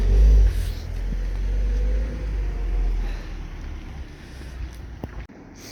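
A nearby car rumbles steadily as it parks, its low engine drone loud at first, then easing off before a sharp drop near the end.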